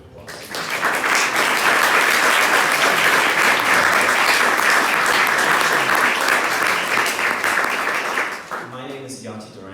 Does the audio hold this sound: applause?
yes